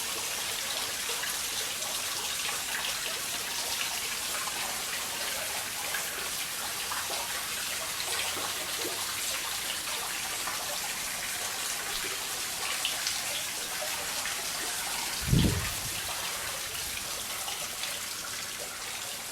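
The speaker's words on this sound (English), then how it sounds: "you can hear the trickling of the water" Steady soft trickling of water runs throughout, gentle and continuous, with one brief low thump partway through.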